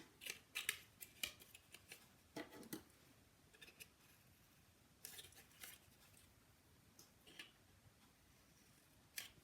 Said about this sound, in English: I'm just going to snip in so that I have a little tab